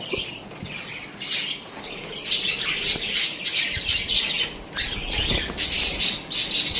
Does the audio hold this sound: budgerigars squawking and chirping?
yes